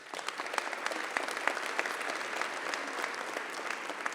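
Town hall audience applause, a crowd clapping steadily with crisp individual claps standing out, moderately distant and fairly quiet, with no talking over it.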